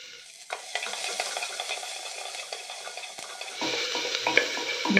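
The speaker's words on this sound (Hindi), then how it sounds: "प्याजों को भी थोड़ा सा सौते कर लेते हैं।" Onions sauté in a pan for a pumpkin soup. Lively close sizzling and frequent stirring clatter build after a quiet start, growing busier near the end.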